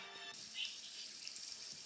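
Water rushes in steadily as a submarine floods in the Roblox video game, a continuous hissing pour that holds at an even level for the whole short moment.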